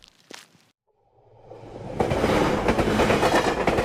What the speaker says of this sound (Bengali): ট্রেন সঠিক সময়েই ছেড়েছিল